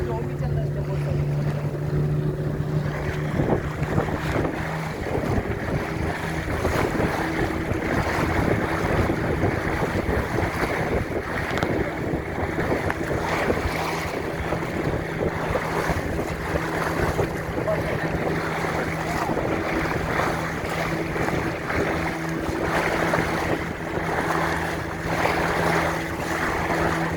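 A local boat ride on a river heading out to sea, with a steady engine drone and a low hum, constant wind buffeting the microphone and water rushing past the hull throughout, with faint voices underneath.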